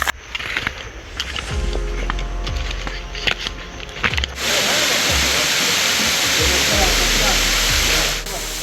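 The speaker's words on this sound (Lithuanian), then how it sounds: "tik dabar pasiekėm vandenį. Esame prie krioklio." A waterfall in the Senegal jungle roars as a dense, steady wash of rushing water. It is quieter and broken by thumps and movement at first, then swells abruptly into a loud, continuous torrent that fills the rest.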